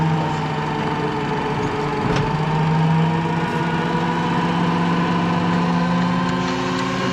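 A 48V electric tractor motor spinning up to about 1500 RPM, giving a steady whine and hum with a rising tone near the start that then holds at a constant pitch, close and continuous.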